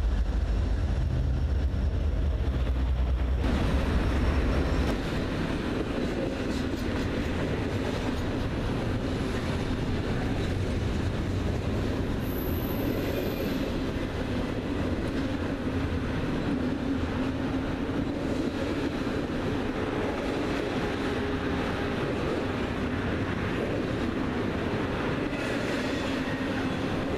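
A train locomotive passes on a railroad near Pittsburgh or Harrisburg, giving a loud, continuous rumble with rolling wheel clatter that holds steady throughout, heaviest and deepest in the opening seconds.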